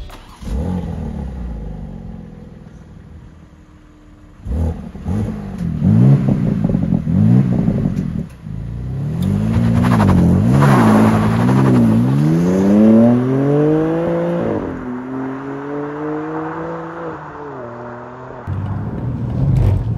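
A BMW M2 sports car accelerates hard from inside the cabin, its engine revving up and down through repeated rising and falling sweeps, loud and close, with a brief gear-change dip partway through.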